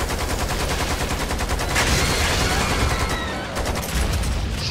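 Dense, continuous video game gunfire: rapid automatic bursts rattle loudly and without a break, close and overlapping, with no clear pause across the stretch.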